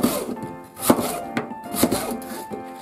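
A knife cuts through lotus root on a cutting board, giving several distinct, close knocks at an uneven pace with a soft slicing crunch in between.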